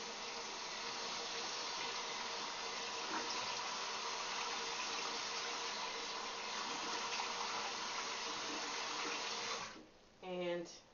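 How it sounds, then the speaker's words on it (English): Lukewarm to cold water runs in a shower while someone washes their face, a steady hiss that fills most of the stretch, then cuts off near the end, where a voice briefly speaks. "again, I'm going to wash with lukewarm to cold water."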